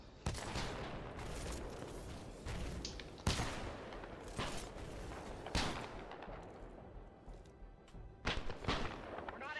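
Kraber sniper rifle shots in a Titanfall 2 player-versus-player match, several sharp, heavy blasts spaced a second or two apart, each ringing out with a booming tail over game ambience.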